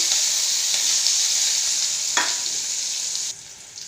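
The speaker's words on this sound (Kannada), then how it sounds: "ಒಂದು ಈರುಳ್ಳಿ ಚೆನ್ನಾಗಿ ಫ್ರೈ ಆಗ್ತಿದೆ" A chopped onion fries in hot oil as a strong, steady hiss. A brief stir breaks the sizzle midway, and it settles slightly quieter near the end.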